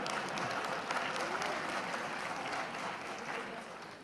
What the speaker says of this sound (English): I'm glad to be applauded